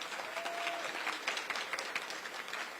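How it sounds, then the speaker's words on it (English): An audience at an equity symposium gives a steady round of applause, many hands clapping together at a moderate distance, continuous and even throughout. "Can we give her a round of applause?"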